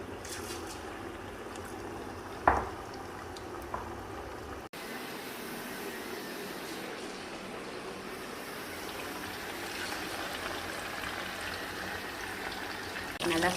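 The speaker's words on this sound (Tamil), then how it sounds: "ட்ராகன் சிக்கனை பொரித்து எடுத்துக்கலாம்." Dragon chicken pieces deep-fry in hot oil during a home cooking challenge, giving a steady, fairly close hiss and bubbling sizzle that continues evenly throughout with one brief pop.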